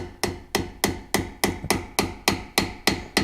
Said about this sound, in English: Now all we got to do is hammer those two pins in.